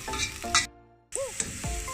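Chopped onions with cumin seeds fry in a pan for palak kofta, giving a loud close sizzle with stirring scrapes, broken by a sudden brief hush before the frying returns.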